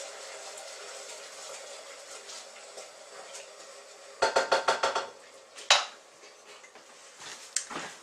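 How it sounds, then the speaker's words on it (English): Caramel in a pot on the stove being stirred, a burst of quick clattering scrapes and knocks of a utensil against the pan over a steady bubbling hiss, then a sharp clank and a few scattered taps. "Giving it a quick stir."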